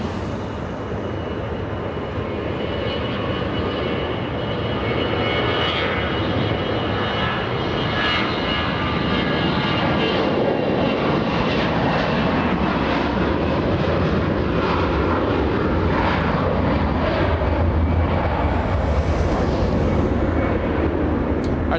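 A United Airlines Boeing 787 jet, a heavy arrival from London, touches down at LAX with a loud, sustained roar of engines and rushing air that holds steady for over twenty seconds.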